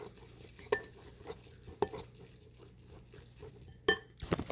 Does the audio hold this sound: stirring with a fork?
yes